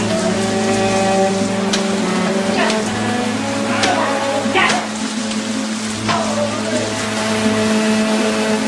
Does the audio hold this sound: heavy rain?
yes